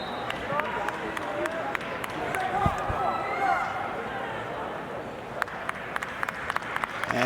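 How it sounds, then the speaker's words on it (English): A crowd at a Big Ten college wrestling match in the closing seconds of a bout makes a steady murmur of applause, with sharp slaps and thuds from the mat and a commentator talking over it. "And the crowd starts to applaud"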